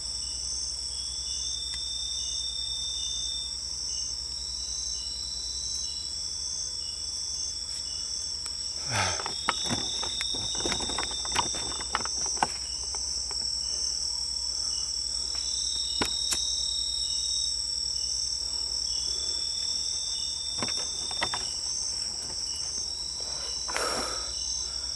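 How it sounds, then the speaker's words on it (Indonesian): Crickets chirp at night around a campsite in a dense, steady high-pitched drone with repeating trills, broken by a few sharp clatters and thumps nearby. "Ini ngageti wae jangkrik ini."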